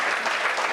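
An audience at a Hindi poetry recital breaks into dense, steady clapping, a loud continuous burst of applause filling the whole moment.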